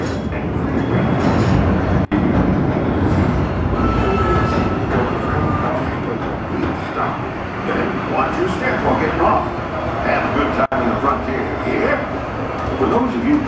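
Theme park steam train rolling toward New Orleans Square Station on a grand circle tour, a steady loud rumble with a couple of sharp clacks, as an announcer's voice talks over it.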